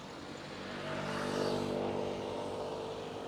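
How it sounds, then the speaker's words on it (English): Steady road traffic noise in Palermo, with a car swelling louder as it passes nearby and then fading back into the traffic hum. "you can see some noise from the cars"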